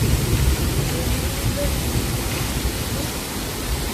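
Water spouts spray steadily at Disneyland, a broad continuous rushing hiss that holds at an even level throughout.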